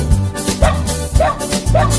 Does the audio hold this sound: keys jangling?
no